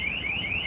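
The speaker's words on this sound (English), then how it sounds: "I don't know what this alarm is, but that's loud." A loud electronic alarm wails on a street in China, a steady high-pitched tone sweeping slightly up and down, heard alone at close range.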